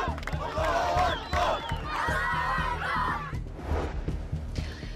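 A crowd in Gaza cheers over a ceasefire, with many voices shouting and chanting together in a loud, lively roar that rises and falls over several seconds.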